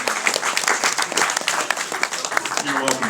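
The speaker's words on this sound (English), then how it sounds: "a big round of applause for Ryan and Dwight" Audience applause at a Hasbro Marvel Legends convention panel at Fan Expo Canada: a dense, steady burst of clapping from a large crowd filling the space, with voices and cheers mixed in.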